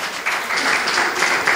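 A brief burst of audience applause at a family ministry strategy conference, dense and fairly loud, filling the short moment without speech.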